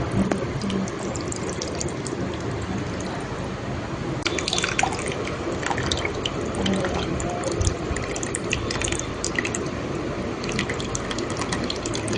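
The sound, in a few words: tamarind water being poured into a pot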